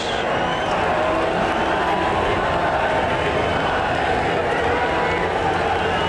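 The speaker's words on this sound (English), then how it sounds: "Well, just a tremendous crowd down pit row" A huge crowd packs the pit lane after Ferrari's win at the 1995 Canadian Grand Prix in Montreal, a constant, roaring wall of noise with no breaks, steady and loud throughout.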